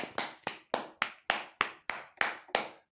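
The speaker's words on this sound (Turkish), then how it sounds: "Bir alkışla bakalım." About nine sharp hand claps in a steady rhythm, close and clear, during a special education lesson, with no talking over them.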